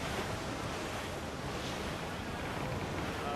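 Ocean waves crash and wind roars around a sailing ship in a squall in Assassin's Creed IV: Black Flag, a dense, continuous surf-and-gust wash with no clear breaks.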